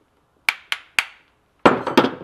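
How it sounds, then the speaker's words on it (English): Old lead hammers being handled among vintage tools, giving three crisp, separate knocks followed by a cluster of heavier clattering hits as metal pieces are set down, close and loud with no talking. "A couple lead hammers."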